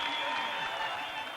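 A dense, loud wall of cheering and applause rises from the roadside crowd at a Tour de France stage finish, with a commentator's voice over it.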